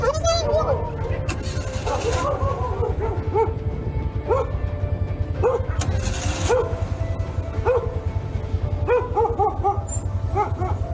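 A dog barks and yips repeatedly in short, close bursts while people talk over and between the barks.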